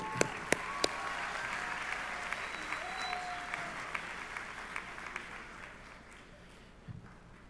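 Sustained applause fills a high school commencement ceremony, a steady wash of many hands clapping that slowly fades toward the end, with a few sharper claps standing out near the start.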